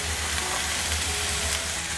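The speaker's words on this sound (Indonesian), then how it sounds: "Tumis bau harum dan masukkan sayur" Bitter melon with red chili and seasonings stir-fries in a hot pan, giving a dense, steady sizzle and crackle that runs without a break from start to finish, close and fairly loud, with no voices.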